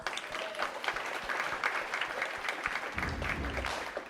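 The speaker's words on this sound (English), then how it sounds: "Give yourselves a round of applause." A school district audience applauds itself after a chant, a soft, fairly distant burst of scattered clapping with a few low thumps near the end, steady throughout the short stretch.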